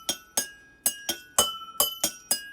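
Notes are struck one at a time on a homemade xylophone of water-filled glasses, nine bright ringing clinks in an uneven rhythm, each decaying quickly and close up, with no voices.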